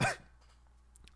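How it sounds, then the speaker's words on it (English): A single short cough bursts out at the start, close and sharp, then fades to quiet room hum. "I'm still coughing."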